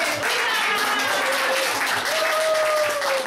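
Audience clapping at a school carnival, a dense burst of steady applause from a crowd in a hall, loud and close, with faint voices mixed in.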